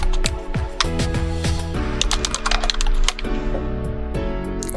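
Someone types a contact's name on a computer keyboard, quick key clicks in bursts over loud steady tonal music that stays in front throughout.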